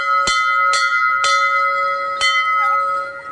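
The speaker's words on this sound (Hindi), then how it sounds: "तो मंदिर की घंटी।" A Hindu temple bell is struck four times at uneven intervals, each clang ringing out bright and metallic with long sustained overtones. The strikes are close and loud, with no voices.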